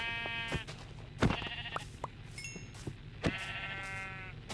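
Sheep bleating in a video game in two clear, drawn-out calls separated by a pause, with short thumps and clicks between them and no talking.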